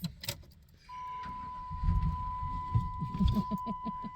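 A vehicle engine out on a beaver-trapping trip spits and sputters, with uneven low rumbling bursts under a steady thin whine, after a short metallic jangle at the start.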